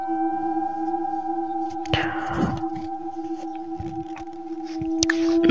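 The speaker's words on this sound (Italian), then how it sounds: "emette un suono dalle sirene che ha" Eerie, steady droning siren-like tones from the Siren Head creature hold throughout, with a sudden rushing burst partway through and scattered low thuds, loud and ominous.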